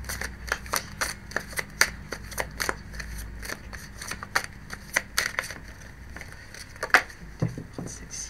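Tarot cards being shuffled by hand, a run of soft, quick riffling snaps and rustles at irregular intervals, close and fairly quiet, with no talking.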